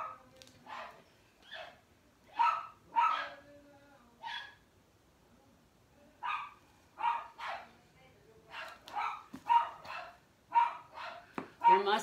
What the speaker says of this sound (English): They love barking at cats.